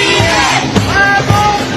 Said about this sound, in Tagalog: narinig nyo na yung mga BBM na sigaw nila